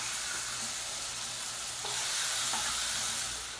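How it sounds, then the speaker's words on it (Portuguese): Chicken frying in golden oil with garlic in a pan gives a steady, close sizzle with faint stirring scrapes, continuous and alone with no talk. "Depois que o meu óleo dourou e o frango ele já soltou toda a água que ele tinha que soltar, eu vou acrescentar ele na panela junto com o alho"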